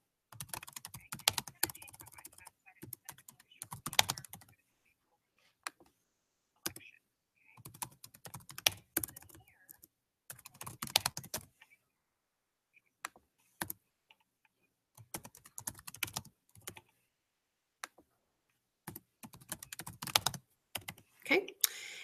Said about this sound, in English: here I'm going to type in my answer choices.